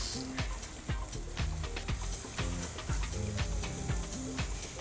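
Meat trimmings browning in hot olive oil in a pan give off a quiet, steady sizzle, broken by frequent sharp pops and crackles and occasional tapping clicks, with no talking.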